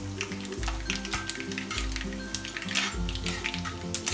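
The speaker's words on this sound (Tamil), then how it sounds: "இப்போ நான் இதில் கடுகு போடுறேன், கடுகு பொரியுது" Mustard seeds pop and splutter in hot sesame oil, a steady close sizzle with scattered sharp crackles and occasional utensil clinks, with no talking.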